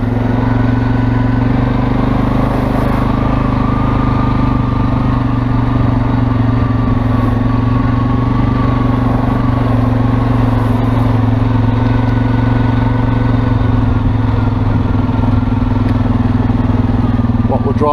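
A vehicle drives slowly over eroded rock on a beach, its engine rumbling steadily and loud throughout with faint rattling from the rough surface, no talk heard.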